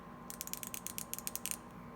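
A Gearwrench 120XP ratchet clicks in a quick run of about a dozen fine, light ticks, close and quiet, then stops.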